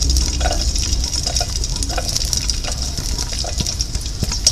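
Onions sautéing in about a tablespoon of olive oil in a pan, a steady close hiss and sizzle with small crackles throughout and no talking.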